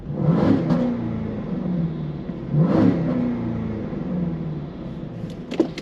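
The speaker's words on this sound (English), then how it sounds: "Give it a couple of revs." A Jaguar XK X150 with a naturally aspirated 5.0-litre engine is blipped twice from idle, each rev rising sharply and falling back, with a steady engine hum between the two bursts and a small click near the end.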